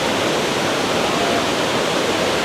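Rushing water of Shifen Waterfall near Taipei, Taiwan: a dense, constant, loud roar heard close up and alone, with no voices over it.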